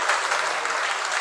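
A congregation claps during a Jain sermon by Acharya Vidyasagar at Antariksh Parasnath, Shirpur, producing a short burst of even, continuous applause from many hands.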